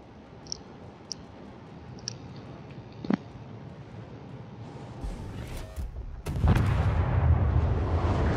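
Naval guns booming in a ship battle video game, a few sharp reports early on, then a louder, sustained rumbling volley building through the end, with no talk.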